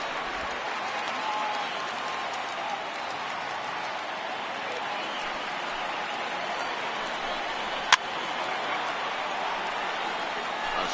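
A sold-out crowd of about 41,800 fills a baseball stadium in Flushing during a Mets–Braves game, its steady cheering and applause roaring on as a wide wash of distant noise with one sharp crack partway through.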